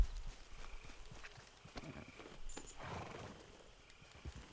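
Horse hooves clip-clop at a steady walking rhythm in Red Dead Redemption 2, fairly close and moderately loud, with a brief brighter scrape midway.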